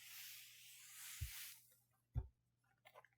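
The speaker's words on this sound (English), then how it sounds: "Want to spray it again with starch" Two short, close bursts of starch spray hit quilt fabric, a broad hiss at the start fading out, with a few soft rustles of the cloth afterward.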